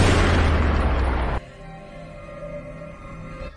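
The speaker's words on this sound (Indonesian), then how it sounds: "Mendengar suara tembakan," A single loud gunshot in a dramatic film scene, a sharp blast with a long booming tail that cuts off abruptly, followed by a quiet low ambient tone.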